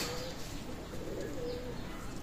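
Teddy pigeons cooing softly in a low, muffled murmur over faint background noise.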